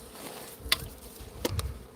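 Bees buzz from a nest in the weeds, a steady low insect drone with a few sharp close passes and taps, moderately loud and with no talking.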